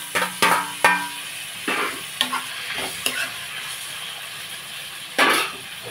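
Onions and tomatoes fry in a pan for chicken curry, with a continuous sizzle broken by several sharp scraping stirs and clinks of the utensil against the pan, close and alone.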